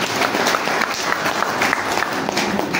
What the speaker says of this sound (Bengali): যার জন্য জোরদার একটা হাততালি জানাব